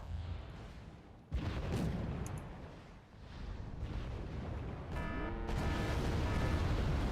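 Booming artillery and rattling gunfire in the wargame Red Dragon, heavy blasts arriving abruptly and rolling on, with a rapid burst of shots toward the end amid dense battle rumble.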